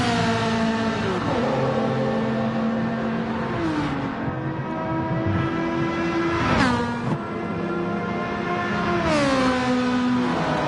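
A race car in Gran Turismo 4 climbs a hill, its engine whining loud and close with a rising, harmonic-rich pitch that drops at gear shifts three times before climbing again, with no voices over it.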